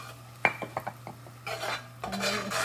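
A spoon stirring flour into butter-softened onions and vegetables in a pot, with light metallic clinks and taps followed by scraping, shuffling stirs, close and soft over a steady low hum.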